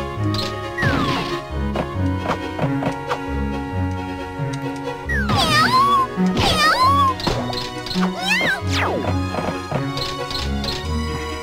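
Kittens in the Tail Concerto video game meow from inside hopping warehouse barrels, a run of bright, rising and falling mews over steady game music, with a few short knocks between them.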